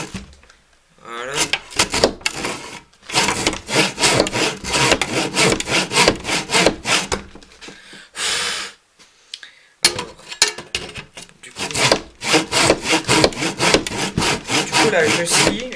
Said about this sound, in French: Là je scie